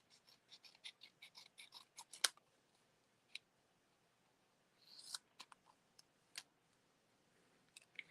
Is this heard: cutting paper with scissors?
yes